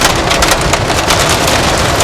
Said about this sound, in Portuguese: estamos dentro da camada, encontrando uma chuva pesada